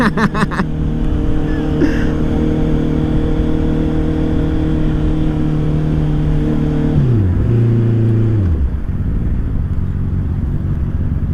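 A car fitted with a very loud exhaust cruises at a modest 50–60 km/h, its deep engine drone steady and close. The pitch drops twice near the end as the engine slows.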